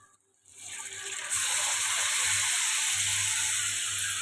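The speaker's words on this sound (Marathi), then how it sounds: "ह्याच आपण आता आपली परतलेली मच्छी यात टाकून फ्राय करून घेणार आहोत" Fish pieces dropped into an oily masala to fry: after a brief quiet moment a loud sizzle erupts and swells into a continuous, intense hiss of hot oil that carries through to the end, with no speech.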